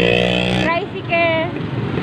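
A tricycle and a motorcycle go by on a town road, a steady engine drone that shifts and fades as they pass, heard close with a voice talking over it.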